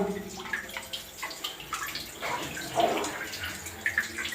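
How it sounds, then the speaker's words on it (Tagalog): Water gushes and splashes out of a pipe in a strong, steady rush, close by, with bubbling and sputtering bursts. "Ayan, malakas yung tubig."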